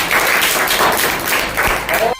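Loud, steady applause and clapping fill the room for a contestant at a primary school general-knowledge quiz, continuing densely throughout before cutting off abruptly.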